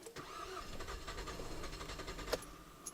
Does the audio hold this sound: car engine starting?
yes